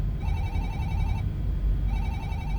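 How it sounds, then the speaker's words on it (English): A telephone rings on the far end of a call in a science-fiction audio drama, two steady electronic ring bursts filling the short clip over a low background rumble. "Their phone is ringing."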